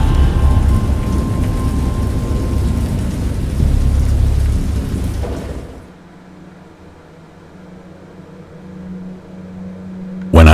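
A video-game thunderstorm in Dagon: heavy rain and rolling thunder roar loudly for several seconds, then drop to a quieter, low steady rain rumble before a sudden loud burst returns at the end.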